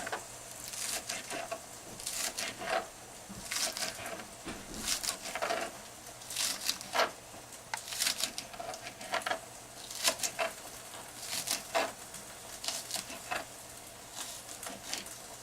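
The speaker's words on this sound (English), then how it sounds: "Cut the onions about 1/2 inch." A knife cuts onions into half-inch pieces on a wooden board, a string of short, sharp, irregular chops and taps, near and fairly quiet, with small pauses between bursts and no talk.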